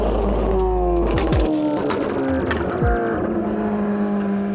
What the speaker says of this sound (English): Literally sounded like a Ferrari pulling up.